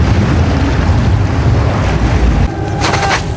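Water rushes loudly into a narrow canyon as a steady, wind-like roar with no voices, then thins and changes character for the last second.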